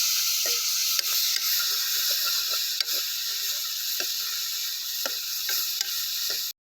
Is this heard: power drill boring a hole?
no